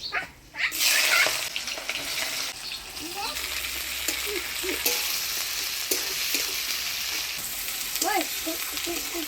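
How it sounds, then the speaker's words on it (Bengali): Chopped onion fries in oil with dry red chillies, whole garam masala and bay leaf, a steady sizzle with spoon stirring and scraping throughout, while a dog barks a few times in the background. "পেঁয়াজটা ভাজা ভাজা হয়ে আসছে"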